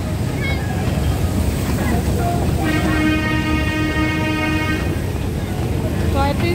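A toy train ride at Nicco Park amusement park at night, with a steady rumble of the ride and a sustained horn-like toot in the middle, people talking nearby.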